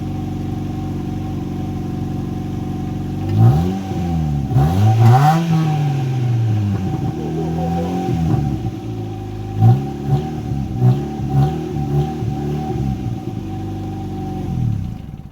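A car engine idles with a low rumble, then revs hard several times through the exhaust, close by and loud.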